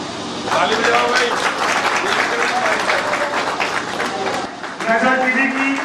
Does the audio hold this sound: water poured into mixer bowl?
no